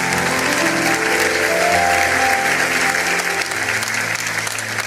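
Church congregation applauding steadily after a scripture reading, a dense wash of clapping from a full room with music sustained underneath, fairly loud and continuous throughout.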